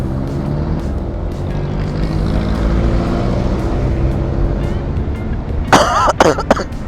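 Person coughing in a moving car, with a short burst of loud close coughs near the end over a constant low engine and road rumble.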